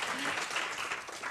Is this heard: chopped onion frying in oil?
no